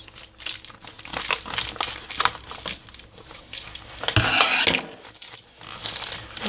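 Cotton is stuffed by hand into a homemade paper squishy taped on its bottom and back. Close crinkling and rustling of paper and tape comes in irregular bursts, with no talk over it.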